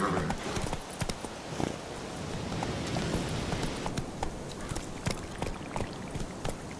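A horse gallops in The Witcher 3 video game. The steady, fast clip-clop of hooves sounds close and loud against a continuous rushing background.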